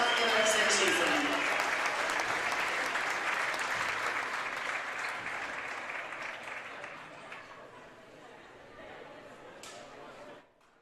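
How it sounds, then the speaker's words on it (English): Applause for senior boys and girls basketball players at a high school game fills a gym, loud at first, then slowly thinning out. A crowd talks and an announcer's voice runs over it. "Please give one more round of applause for all of our senior Rams and Lady Rams"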